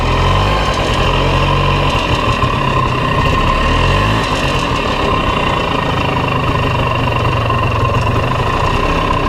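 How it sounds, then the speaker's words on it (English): A Polaris Xplorer 250 4x4 ATV engine idles in a loud, steady, low rumble that runs without a break and never stalls. "she idles down nice, doesn't stall"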